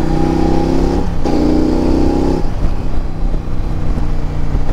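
A 2023 CFMOTO 800MT touring motorcycle accelerates on the road, its engine droning steadily with a rising tone, dipping briefly as it shifts, then pulling again, heard up close with no talk.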